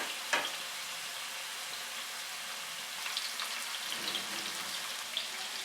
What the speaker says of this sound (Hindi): जो 4 से 5 टेबलस्पून ऑयल था वो मैंने पैन में डाल के गर्म कर लिया है। अब ये स्टिक्स डालेंगे।